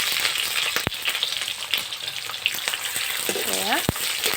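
Onions fry with five-spice in oil over browned sugar, giving a steady close sizzle broken by a few sharp clinks and scrapes as a spoon stirs the pan.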